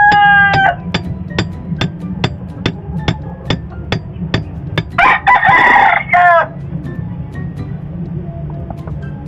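Chickens at a backyard coop: a rooster crows loudly nearby over a steady clucking flock, with a run of sharp rhythmic tapping knocks before the crow.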